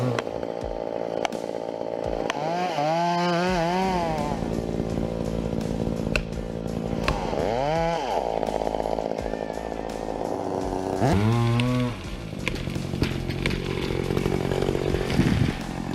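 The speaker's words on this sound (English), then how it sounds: "The sound of the saw continued to ring" A chainsaw drones steadily at close range, its engine pitch rising and falling in revving sweeps as it bites through a large oak tree, continuous for the whole stretch.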